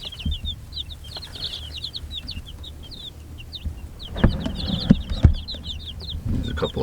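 Newly arrived fall chicks peeping constantly in high, rapid chirps, close by, with soft rustling and a few bumps of movement toward the end.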